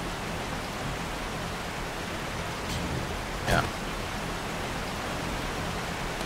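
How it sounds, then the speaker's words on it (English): Heavy rain pours in the video game 7 Days to Die as a steady, dense wash of noise. It runs throughout with a brief thump partway, and one short spoken word. "Sounds like it's absolutely pouring."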